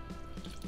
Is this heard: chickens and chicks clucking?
no